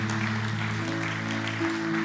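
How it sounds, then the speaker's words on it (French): A church congregation at a French-language morning service applauds, a short, dense patter of clapping over sustained keyboard tones. "Est-ce qu'on peut donner une main d'applaudissement au Seigneur ce matin?"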